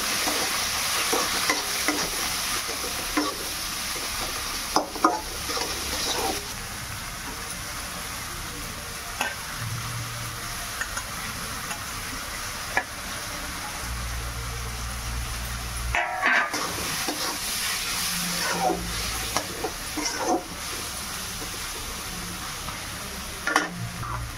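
Tomato frying in a hot pan for chingudi sukhua bhaja, a steady close sizzle broken by repeated scraping and clanking as a spoon stirs it, with occasional faint horns from traffic outside.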